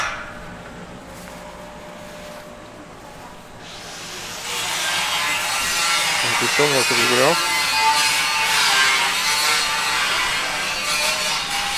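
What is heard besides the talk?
cutting panels at construction work next door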